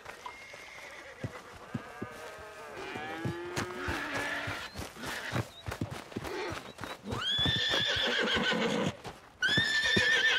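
Horses whinny and neigh repeatedly amid cattle lowing and scattered hoof clops in the video game Red Dead Redemption 2, a busy farmyard mix of loud animal calls and intermittent hoof knocks with no talking.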